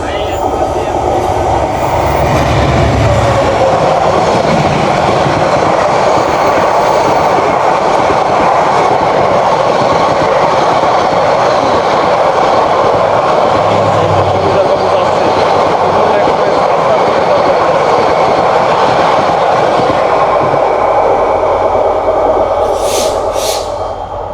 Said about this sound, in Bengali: এই দেখেন সুবর্ণ এক্সপ্রেস চলে আসছে